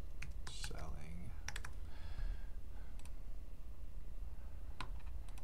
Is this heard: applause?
no